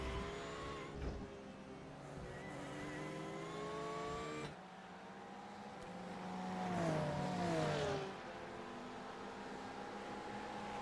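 GT3 race cars, including two Acuras, battling at Circuit Jerez in a racing game, with steady engine drone and revs rising and falling as cars shift and pass, moderately loud and continuous.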